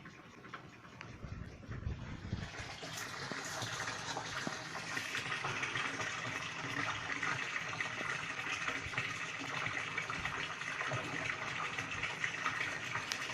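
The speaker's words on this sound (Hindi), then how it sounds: "बहुत अच्छे फ्लो के साथ यहाँ पर ये पानी हमारा जो है वो भर रहा है।" Water from a solar-powered DC pump gushes steadily into a water tank, a loud, continuous rushing flow after a brief quieter start, with no talk.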